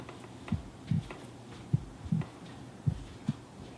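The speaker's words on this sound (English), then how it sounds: "Got a heartbeat sound effect." A heartbeat sound effect plays alone, six low, dull thumps at a slow, fairly even pace over a quiet hum.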